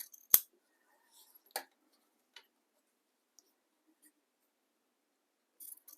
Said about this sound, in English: I'm going to trim this so it's the same width as the zipper.